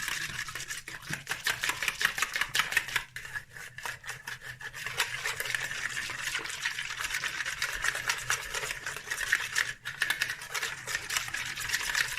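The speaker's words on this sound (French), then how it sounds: "Je verse et je mélange jusqu'à ce que j'obtienne un mélange homogène" Flour and water being stirred by hand into a smooth papier-mâché paste, a steady rubbing, scraping swirl that continues close up with only brief pauses.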